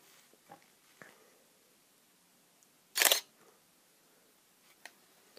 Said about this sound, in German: jetzt mache ich einfach mal ein Foto im Automatikmodus